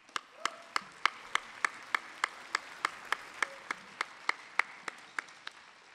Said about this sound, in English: I'd like to give a great big round of applause for all the elders and the youth that came to participate.